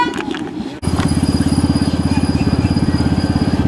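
A Union Pacific locomotive engine runs at TradeWinds, throbbing loudly and close in a fast, steady rhythmic chug after a brief rough start.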